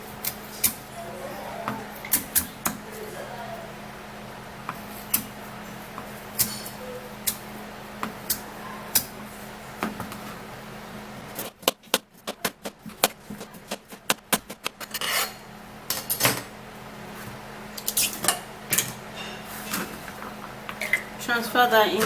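A peeled carrot is cut on a hard surface, giving scattered crisp knife strokes and rasping scrapes, then a dense run of rapid chopping clicks midway, fairly close.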